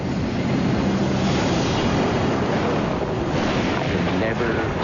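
A steady, dense roar of violent wind from an F5 tornado, broadband and unbroken like a rushing wall of air buffeting the microphone, loud and continuous from start to finish.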